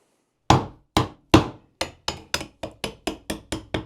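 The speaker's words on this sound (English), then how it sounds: "Mad chiseling will have to do." A hammer drives a chisel into wood by hand, striking eleven sharp, close knocks. The first few blows are spaced out, then they settle into a quicker, fairly even rhythm.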